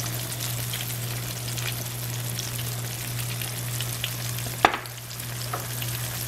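Tilapia fillets pan frying in hot oil give a steady, even sizzle throughout, broken by one sharp clink partway through.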